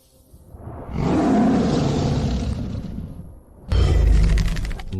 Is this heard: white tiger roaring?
yes